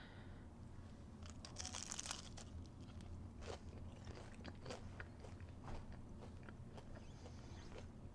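Repeated crisp crunches from biting and chewing a hot fried Filipino lumpia spring roll, close and fairly loud, with a crackly texture throughout and no talking.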